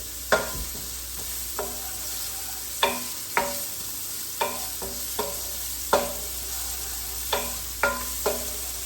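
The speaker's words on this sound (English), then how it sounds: "we're gonna go ahead, fry it up a little" Meat and onion fry in a pan, a steady sizzle broken by about a dozen sharp utensil scrapes and taps at an even, unhurried pace, close and clear with no talking.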